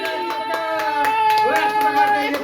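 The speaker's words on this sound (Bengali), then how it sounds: "হাততালি জোরে হাততালি" Hands clapping at a home street-food eating game, a short burst of close applause under an excited voice that carries on talking throughout.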